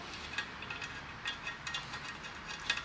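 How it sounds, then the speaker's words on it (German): Screws holding a Harley-Davidson Fat Bob motorcycle's headlight mask and handlebar are loosened by hand, giving a faint series of small ratcheting clicks at close range, with no talk. "Die Schrauben lösen wir jetzt, um die Lichtmaske frei zu bekommen."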